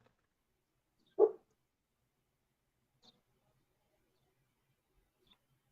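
A dog gives a single short bark in a quiet indoor space, followed by a couple of faint ticks and near silence.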